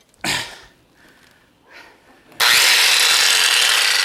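A power saw cuts through a butterfly-shaped wood piece, with a couple of short bursts and rattles before a loud, continuous cutting whine kicks in and holds to the end.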